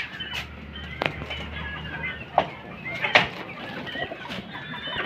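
Chickens and chicks clucking softly in a coop, with a few brief sharper calls and short bursts standing out over a steady low background hum.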